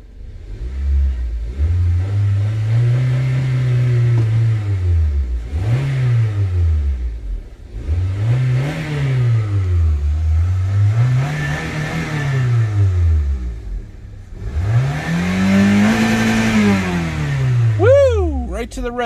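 A 2004 Toyota Corolla with its check engine light on revs hard toward the red line in repeated loud rising-and-falling bursts, about five throttle pulls close by, with a voice talking over it.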